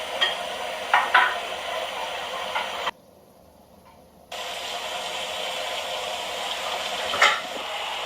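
Jollof rice sauce stirred and bubbling in a pot, a steady low sizzle with occasional scraping clicks of the spoon, briefly cutting to near silence midway before the cooking noise resumes.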